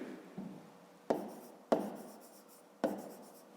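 A pen scratches on paper while a math exercise is worked out, three or four short close strokes with brief pauses between them and no talking.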